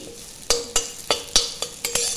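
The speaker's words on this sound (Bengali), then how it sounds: "একটু লাড়া করে নিই" A spatula scrapes through teasel gourd cooked with coconut in a pan about seven times in quick strokes, over a soft, steady sizzle.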